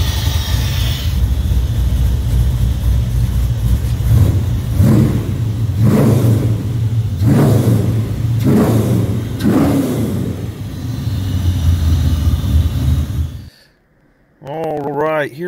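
A 1981 El Camino with an LT1 V8 engine is revved in a series of about five short, even throttle blips over a steady idle, ending abruptly.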